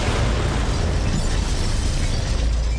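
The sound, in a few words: explosion of set bombs in video game Borderlands 3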